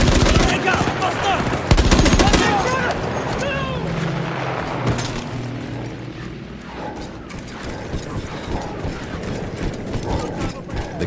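A stationary machine gun in Battlefield 1 fires a dense, rapid burst of close, loud shots at the start, followed by mechanical clatter and battle noise, with voices talking underneath.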